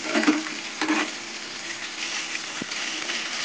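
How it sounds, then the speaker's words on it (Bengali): Pieces of katla fish frying in hot oil, a soft steady sizzle and crackle running throughout with a few louder spits near the start, close by and alone. "মাছ ভাজা হয়ে গেছে, মাছগুলো তুলে নেব।"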